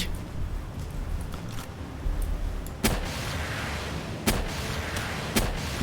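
Repeated heavy gunfire and booming blasts in the video game Palworld as a house is shot up and blown apart, sharp impacts spaced a second or so apart over a rumbling background.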